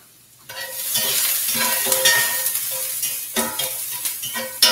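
Garlic and onions sizzle steadily in a frying pan, starting after a brief silence and continuing as a dense, crackling hiss with occasional stirring scrapes, close and fairly loud.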